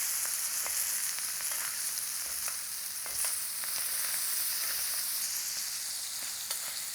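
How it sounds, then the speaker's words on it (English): Steak frying in butter with garlic cloves in a very hot pot, giving a steady, close hiss of sizzling with scattered small pops and crackles throughout, no voices. "Gonna let this steak go for another 2 to 3 minutes"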